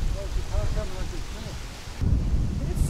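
Strong gusty wind from Hurricane Irma in South Florida roaring over an outdoor microphone, a loud steady rumble that surges harder near the end, with brief voice-like sounds underneath.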